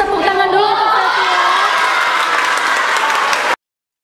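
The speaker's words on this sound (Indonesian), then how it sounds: "Tepuk tangan dulu untuk Pevila." A classroom of children clapping for a classmate, loud and close with some shouts and cheers mixed in, then cutting off abruptly.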